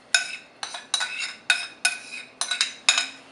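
Pahut fish cake ingredients being mixed in a mortar, a series of about eight sharp clinking knocks in an uneven rhythm, each with a brief ring, close and alone.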